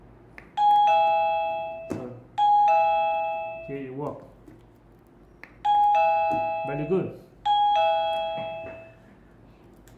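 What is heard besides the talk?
wifi doorbell indoor chime ringing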